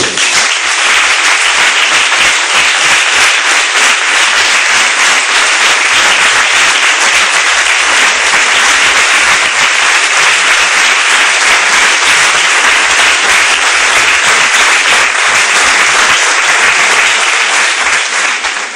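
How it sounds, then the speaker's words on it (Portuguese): A church congregation claps loudly and continuously, a thick, close round of applause that stays at full strength throughout without voices rising above it. "Vamos dar mais uma linda salva de palmas para o Criador?"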